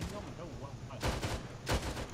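Video game gunfire in a military shooter: a steady rattle of distant shots with two louder, sharper bursts standing out near the end.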